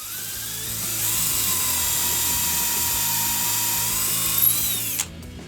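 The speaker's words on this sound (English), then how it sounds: "I'm just going to go ahead and drill some holes for it." A power drill spins up and bores holes into a wooden board for dowels, its high whining motor note held steady for several seconds before winding down abruptly, close and loud.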